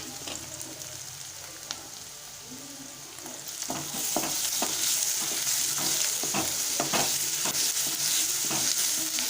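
Ginger garlic paste sizzles with softened onions in a pan, a steady bright hiss that thickens partway through, with repeated scraping stirs marking a loose rhythm close by; no talking.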